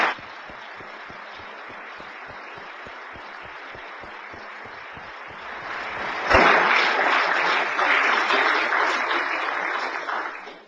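Audience at an author's book presentation in Great Falls, Montana, breaks into sustained applause; faint scattered claps swell into full, steady clapping from the room that carries on for several seconds.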